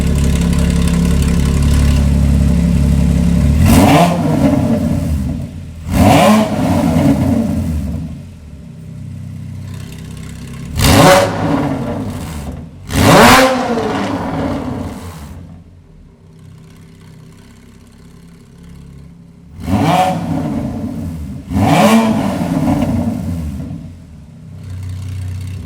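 Porsche Cayman GT4 fitted with Fabspeed headers and exhaust, revving in a series of sharp, loud blips over a steady idle, roughly three pairs of rising revs with quieter idling between them, close by and with no talk.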